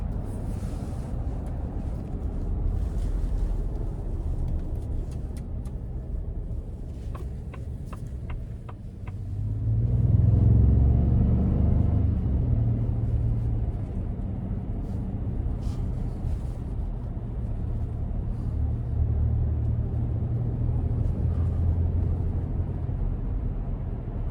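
A 2026 Ford F-150 Platinum with the 3.5 twin turbo, in sport mode, accelerates on an interstate in rush hour, its engine swelling into a steady, loud in-cabin drone with road and wind noise. There is no talk.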